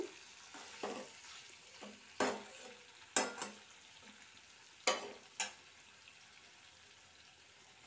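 Spice masala and tomato for a radish curry are sautéed in a pan, a quiet low sizzle broken by a handful of sharp scraping strokes of the stirring spoon.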